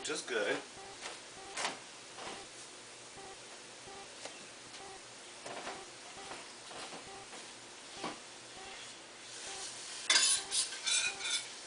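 Ground beef sizzles quietly in a pan while a utensil scrapes and clinks against it now and then, with a louder flurry of stirring near the end.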